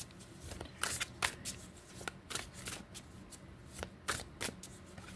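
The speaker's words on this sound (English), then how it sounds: "So let's ask the cards. And this deck is becoming one of my favorites" A deck of tarot-style cards riffled and shuffled for a reading, giving quick crisp flutters and soft snaps in an irregular rhythm, close and fairly quiet.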